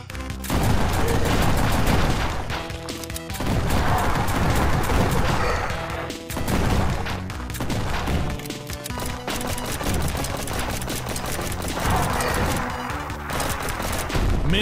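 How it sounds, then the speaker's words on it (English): Shotgun blasts in the zombie video game Zomb Bomb, a rapid run of heavy booming shots and impacts layered over loud game music, repeating in bursts across the whole stretch. "Shotgun."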